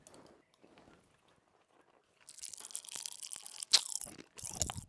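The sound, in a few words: crunching and chewing cola-flavoured chewing gum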